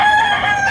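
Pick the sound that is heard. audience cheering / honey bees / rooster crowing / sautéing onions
rooster crowing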